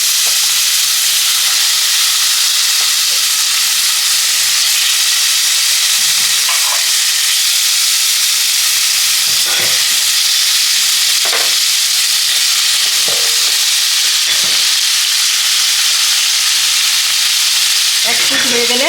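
Katla fish pieces fry in hot oil, a steady, close sizzle running the whole time, with occasional louder crackles and spits as pieces go in one by one.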